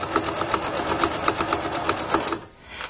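Sewing machine stitching elastic for a hair bow ponytail band, a close, steady rapid chatter of needle strokes that stops abruptly near the end.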